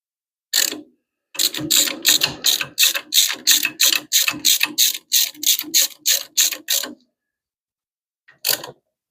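A ratchet tightens bolts on a Simplicity Prestige garden tractor, a loud, close run of about twenty evenly spaced clicking strokes, then a pause and one final click.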